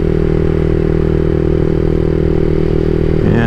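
A CSC SG250 motorcycle fitted with a MotoCult Stage 4 exhaust, a loud close engine drone holding steady and then rising in pitch near the end as it accelerates.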